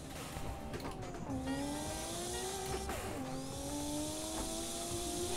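Race car engine on boost in a racing video game, a loud sustained whine with rising and falling pitch through gear shifts, plus tire squeal, continuous and close.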